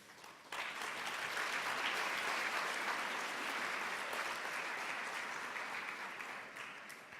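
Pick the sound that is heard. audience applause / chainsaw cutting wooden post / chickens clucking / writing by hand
audience applause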